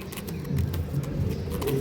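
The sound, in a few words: pigeons cooing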